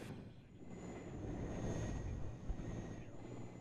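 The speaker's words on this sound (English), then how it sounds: "Now here I go, calling in my helicopter because I need some recon." A rotor-engine drone rumbles in the WARNO strategy game as a recon helicopter is called in, a low, broad mechanical roar that swells slightly and holds steady, fairly faint, with no talking.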